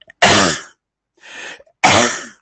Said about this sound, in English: Excuse me, but I cough.